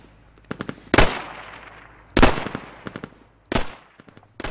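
Bursts of rifle and automatic gunfire from a four-man infantry assault in the military shooter Squad, with three loud close shots, each trailing off in a long echo, between quicker, fainter rattling shots.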